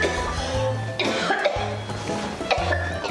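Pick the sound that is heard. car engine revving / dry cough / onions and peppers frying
dry cough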